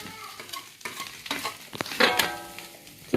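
Rice stir-fried with rendang in a pan for old-style nasi goreng, a utensil scraping and tossing in uneven strokes over a steady sizzle, close up with no talk.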